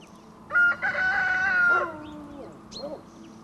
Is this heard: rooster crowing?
yes